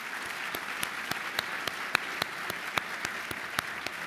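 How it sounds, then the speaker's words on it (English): Audience at an annual fall brunch clapping in a sparse, spaced-out way, individual claps distinct and fairly regular over a soft room background, moderately distant. "Can we please give them a round of applause?"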